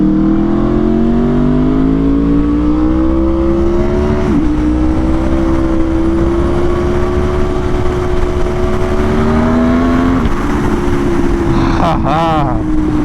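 A new Aprilia RSV4 motorcycle engine revs hard on an intense street ride through thick traffic, a loud steady roar rising and dipping with gear changes, close to the rider, with wind noise and a brief spoken remark over it.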